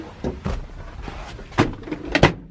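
A project drift car's trunk lid being worked open, heard as several sharp latch clunks and thuds in irregular succession, close and moderately loud, ending in two stronger knocks.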